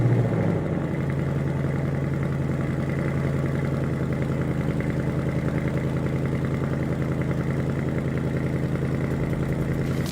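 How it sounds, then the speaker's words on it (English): Ford Mustang engine starting with a brief crank and catch, then settling into a steady, throbbing idle that stays loud and even to the end. "Now let's turn the car on."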